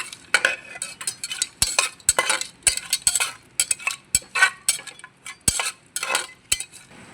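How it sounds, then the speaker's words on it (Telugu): Cashews and spices frying in a cooker pot are stirred with a metal spoon, giving a quick series of sharp scrapes and clinks against the pot over a light sizzle. "ఒకసారి తిప్పుకుందాం."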